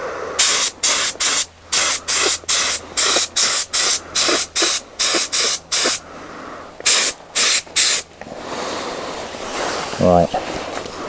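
A spray gun lays a base colour coat on Fazer 600 motorcycle parts in a run of short, loud hissing bursts, about a dozen in quick succession, then quieter workshop noise with a brief squeak at the end.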